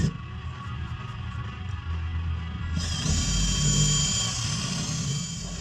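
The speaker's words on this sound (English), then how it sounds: "I'm using my drill to go through" Power drill boring through a double layer of car body sheet metal, a steady close whine that shifts up in pitch partway through and keeps grinding to the end.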